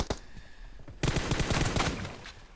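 PUBG Mobile gunfire, played on a tablet: a couple of isolated shots open, then a dense rapid burst of automatic fire crackles loudly for over a second before tapering off.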